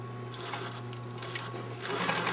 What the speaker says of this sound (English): Now I will sew down the binding on the fold line.